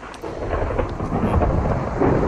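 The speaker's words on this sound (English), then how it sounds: "As you can see, thunderstorms is cracking away." Thunder from a storm outside a house rumbles and cracks continuously, with rain under it, a loud, dense low roar that swells in waves and has no voices over it.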